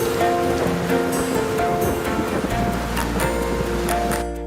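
Steady rain falling in Kangra, Himachal Pradesh, a dense continuous patter of drops on surfaces, fairly loud and even throughout, with no voices.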